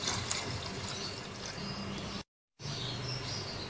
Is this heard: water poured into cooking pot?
yes